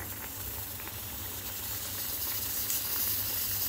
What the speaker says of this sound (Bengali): মাটনের সিটি উঠছে